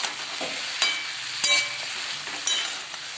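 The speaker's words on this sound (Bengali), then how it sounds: "তারপর আবার নাড়াচাড়া করে মিশিয়ে নেবো যাতে সবজির মধ্যে হলুদটা ভালো করে ঢুকে যায়" Cauliflower and potatoes coated in turmeric sizzle steadily in a hot pan while a spoon stirs them, with a few sharp scraping clicks against the pan, close and alone without talk.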